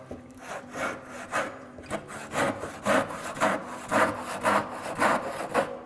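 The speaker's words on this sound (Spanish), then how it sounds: "asegurándonos que la hoja del serrucho está bien perpendicular a la madera que estamos cortando" Handsaw cutting slowly through a wooden batten, a steady series of rasping push-and-pull strokes, close and fairly loud, with no talking.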